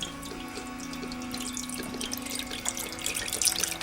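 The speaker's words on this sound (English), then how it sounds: "Pour all that down in there. You don't want to waste this beef stock." Beef stock pours into a cooking pot for a beef vegetable stew, a steady close splashing and gurgling of liquid that runs continuously, with no talking.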